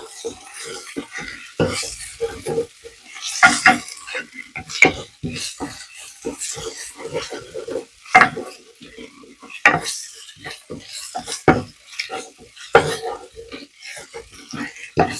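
Onions fry with ginger and korarima spice in a pan for a lentil stew, with repeated close scraping and clinking strokes of a spoon against the pan over a soft sizzle.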